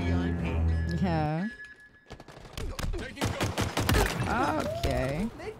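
Gunfire in the video game Halo comes as a loud, rapid string of shots and thumps in the middle of the clip, with people talking at the start and end.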